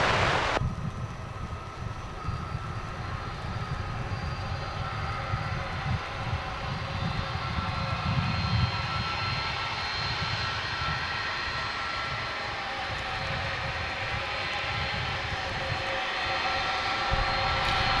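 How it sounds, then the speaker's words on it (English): An Airbus A300 jet airliner at Dallas/Fort Worth Airport at night gives a steady, broad engine roar that holds at a fairly even loudness throughout, with no voices. "Here's that A300 we saw a few moments ago."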